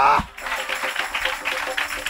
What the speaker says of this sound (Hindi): ये ताली बजा यीशु को धन्यवाद